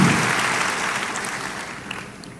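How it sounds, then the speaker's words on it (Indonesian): A church congregation applauds during worship, a dense round of clapping that starts strong and gradually fades over a couple of seconds. "Berikan tepuk tangan kita untuk Tuhan kita."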